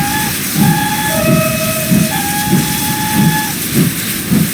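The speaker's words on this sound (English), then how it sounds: "you can do the two-tone whistle thus" A GWR 72xx heavy freight tank engine in Train Simulator sounds its two-tone steam whistle, alternating high and low blasts over the steady rhythmic chuff and hiss of the working locomotive, with no voices.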